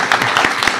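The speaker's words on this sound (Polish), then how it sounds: "Takie gromkie brawa." A hall audience gives loud, hearty applause at a Polish church-related celebration honoring the Loretto sisters, a dense, steady clatter of many hands clapping close by with no talk over it.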